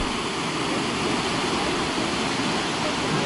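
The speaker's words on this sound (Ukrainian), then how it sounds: "Така тут бурна річка підмиває каньйон" The turbulent river rushing through Johnston Canyon gives off a loud, steady roar of churning water, broadband and unbroken from start to finish with no voices over it.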